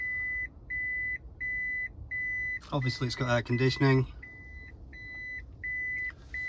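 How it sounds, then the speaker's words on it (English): Steady reversing-sensor beeps from a 2015 Toyota Auris 1.8 hybrid estate, repeating in short regular pulses, interrupted midway by someone speaking, then resuming after he stops. "I'll just take it out of reverse to stop the beeping noise."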